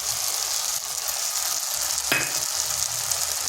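Masala with cashew paste and tomato sautéing in a pan for a restaurant-style aloo fulkopi curry: a steady, bright sizzle close up with a brief scrape partway through, and no talk.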